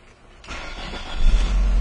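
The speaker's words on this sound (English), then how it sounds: "So let's go ahead and start the car." A car with a suspected vacuum leak and rough idle is started: a brief cranking whir, then the engine catches and settles into a louder, rumbling idle, close by.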